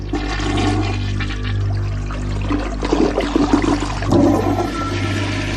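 A toilet flushes loudly and close, a rushing roar of water that swirls and gurgles before draining, used as a boxer's ring entrance music.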